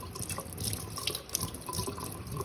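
Freshly harvested mullein leaves rinsed under a running kitchen tap, a steady splashing water flow with light patters as the leaves are turned.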